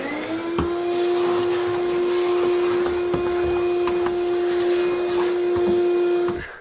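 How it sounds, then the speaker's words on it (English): Vacuum cleaner running in a kitchen during remodel prep before spray painting: a steady, loud, droning whine with a fixed pitch that holds throughout, then cuts off at the end. "But before I spray, I've got a vacuum."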